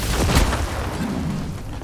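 A bomb goes off in the video game Dragon's Dogma II, a single deep booming blast early on that rolls off into a rumbling tail.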